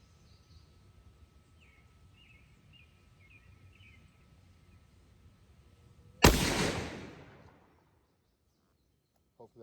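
A Mossberg 940 Pro shotgun fires one loud, sharp shot of Fox Trot ammo outdoors, decaying quickly, after a quiet stretch with faint bird calls.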